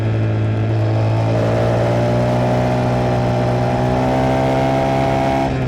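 A2-class motorcycle on a track, one of a KTM 390, Yamaha R3, MT-07 or 790, accelerating under throttle: a loud, continuous engine drone with rising harmonics as revs climb, heard close without any voices.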